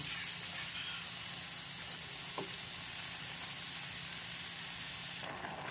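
Chayote and carrots cook in a pan with a steady, close, even sizzle and hiss. The sound holds unbroken for several seconds and then drops a little at the end.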